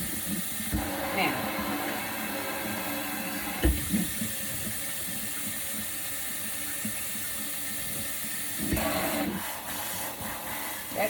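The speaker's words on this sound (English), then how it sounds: "Gonna make sure that you rinse it out good." Tap water runs steadily as a child's thick hair is rinsed, a close, continuous splashing hiss broken by a few louder gushes and bumps.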